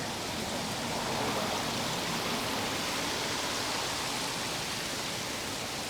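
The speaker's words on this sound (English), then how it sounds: "Very tranquil waterfall." A steady, even rush of falling water from a waterfall on City Island in the Bronx fills the whole stretch, close and constant, with no voices over it.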